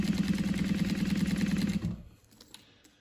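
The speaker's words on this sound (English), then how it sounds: "I'm going to top stitch at just over 1/8 of an inch seam allowance" A sewing machine top-stitches a laptop sleeve at just over 1/8 inch seam allowance, stitching rapidly for about two seconds with a steady buzzing rhythm, then stops, leaving faint handling clicks.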